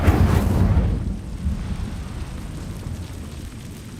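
Incendio fire spell cast in the video game Hogwarts Legacy: a loud fiery whoosh and rumbling burst at the start that fades into a low, lingering roar over the following seconds.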